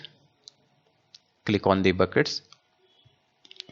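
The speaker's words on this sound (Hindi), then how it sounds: "Click on the buckets." Computer mouse clicks in the AWS S3 console, a few faint scattered clicks around a short burst of speech in the middle.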